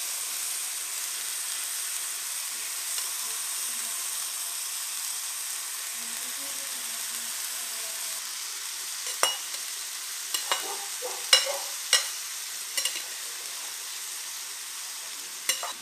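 Broad beans and turkey slices sizzle steadily in a frying pan, a constant hiss with sharp clicks and scrapes of stirring toward the end; no talking.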